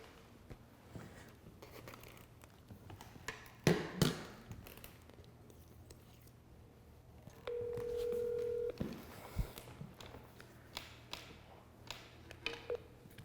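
Quiet telephone line sounds before a call: scattered clicks and taps, a short dialing burst, then a steady tone lasting about a second, with faint clicks continuing afterward.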